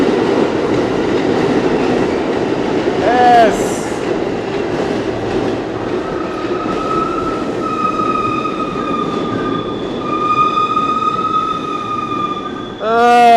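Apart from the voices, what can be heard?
NYC subway train arriving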